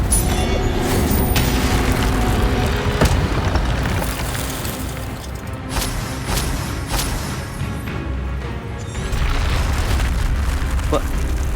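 The Incendio fire spell is cast repeatedly during combat in the video game Hogwarts Legacy, with loud whooshing bursts and booming impacts over a busy game soundscape while a voice talks intermittently.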